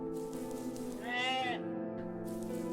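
A goat bleats in the video game OneShot, a single wavering cry rising out of a sustained droning musical background and fading after about half a second.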